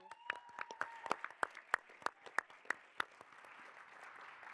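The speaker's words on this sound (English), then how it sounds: "a round of applause for Ray" An audience at a pitch event applauds Ray with scattered, sharp claps, a dozen or so distinct hand claps fading into a quieter, thinner patter.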